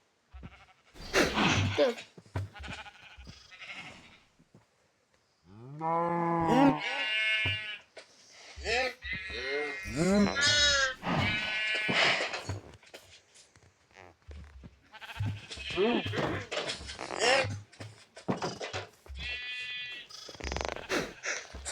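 Sheep in the Minecraft video game bleat repeatedly, wavering blocky bleats clustered in bursts alongside other farm animal noises, with two players talking over and between the calls.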